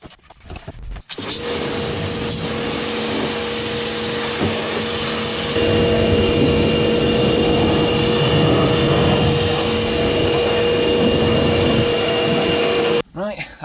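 Pressure-washer water rinsing the wheel arch of a Mk6 Ford Fiesta ST150 with the wheel off: a loud, steady hiss and roar of spray running for over ten seconds, with a machine whine underneath, starting and stopping abruptly.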